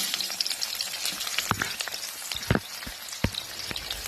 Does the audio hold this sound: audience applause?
no